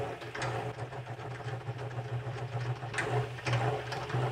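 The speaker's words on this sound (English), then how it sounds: "You can see it right away spinning out and hitting the sides of the extractor." A honey extractor spins frames of honey from a first-year hive, giving a steady, close mechanical whir with a low droning hum and a faint rattle that runs without a break.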